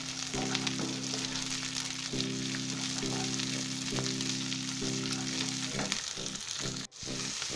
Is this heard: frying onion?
yes